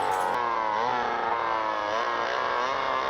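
A chainsaw runs continuously in the 1972 horror film The Last House on the Left, a buzzing, slightly wavering engine whine held loud and close for several seconds with no talk over it.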